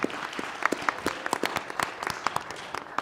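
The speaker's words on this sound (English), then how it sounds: "Big round of applause for Tatum." A small audience at a school board meeting gives a round of applause for a staff member, sparse and uneven claps with distinct individual hand strikes close by.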